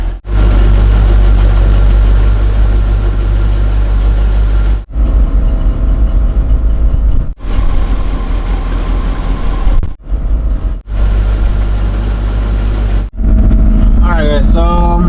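The engine of a Cadillac DeVille on air suspension idles and drives with a loud, steady low rumble that cuts out briefly several times.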